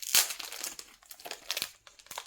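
An Oreo packet wrapper crinkles open in a few sharp, close bursts of plastic rustling, separated by brief quiet moments.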